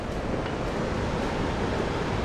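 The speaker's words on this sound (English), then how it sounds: "Water flowing down, fast current." A fast river current along a portage route in Quetico flows in a steady broadband rush, loud and close, mixed with wind buffeting the microphone.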